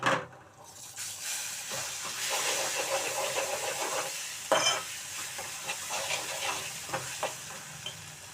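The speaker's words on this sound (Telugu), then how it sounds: "నేనైతే చట్నీ దీనిలో వేసేసుకుంటున్నాను." Coriander chutney tipped into a hot pan of tempering, giving a steady soft sizzle and frying hiss with a few scraping stirs, moderately close and without talk.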